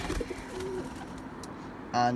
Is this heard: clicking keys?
no